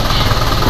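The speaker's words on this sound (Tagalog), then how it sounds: "naririnig nyo boss kung gaano kaganda umandar ang makina nyo" An Isuzu 4HJ1 diesel engine with low power and hard-starting trouble runs at a steady idle, giving a continuous close rumble with a dense, knocking throb and no pauses.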